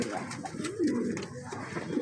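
A male pigeon held in the hand gives a low, throaty coo, close and fairly soft, rising to a brief rolling call in the middle over a faint background hiss.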